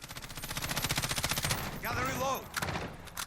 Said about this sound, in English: So if I just let this rip without controlling it, see we're going straight up